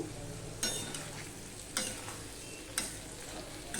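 Vegetables fry with tempering spices in a pan for a vegetarian Bengali curry, giving a steady quiet sizzle broken by a few sharper stirring scrapes.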